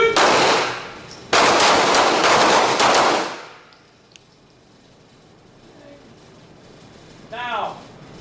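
Handgun fire from a night shooting drill in a combatives class: two dense bursts of rapid shots up front, then quiet range ambience with a faint metallic clink and a short distant chirp near the end.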